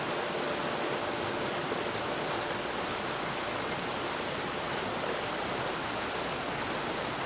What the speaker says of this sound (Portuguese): até que a chuva começa a cair